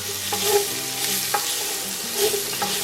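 Garlic, onion and ginger sauté in a hot pan with a steady, close sizzle, and a few soft scrapes of stirring break through.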